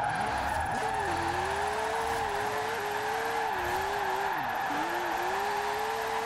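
Retro Porsche sliding in Forza Horizon 4, a steady engine drone whose pitch wavers up and down through the drift, with faint tyre noise, loud and continuous throughout.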